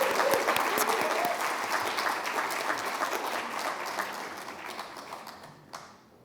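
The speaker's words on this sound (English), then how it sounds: "Now, Dina is one of, yes, applause, applause, applause." Audience applause at an arts celebration event, a full burst of many hands clapping that gradually thins and fades out, leaving a few scattered claps at the close.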